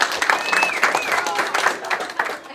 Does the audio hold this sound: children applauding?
yes